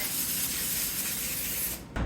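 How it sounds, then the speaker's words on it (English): Cooking spray hisses steadily onto a parchment-lined baking tray for nearly two seconds, a close continuous aerosol spray that stops abruptly at the end. "I'm going to spray it so it's non-stick."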